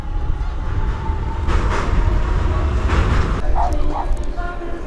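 Limited express train pulling into a temporary Balloon Saga station during the balloon festival, a low continuous rumble of rolling stock with brief hissing bursts and a short tone near the end, heard from outside the platform fence.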